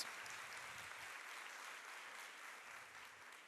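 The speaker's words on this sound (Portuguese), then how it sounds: "Uma salva de palmas para vocês" A crowd of educators applauds at a school talk on ADHD, a faint, even spread of clapping that holds steady throughout without any voices.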